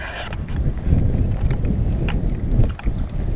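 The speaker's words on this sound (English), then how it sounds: "The wind has really picked up." Strong wind gusting across a lake in Algonquin during a solo canoe trip, buffeting the microphone with a loud, steady rumble that swells and eases in gusts, no voices.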